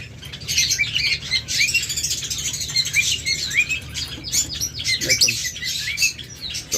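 Lovebirds and budgerigars chirp and tweet continuously in a dense, busy chorus, with brief wing flutters mixed in, steady and fairly loud throughout.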